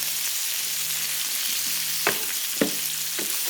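Shrimp fry for a snow pea stir fry, giving a steady close sizzling hiss with two or three brief spatula scrapes in the second half.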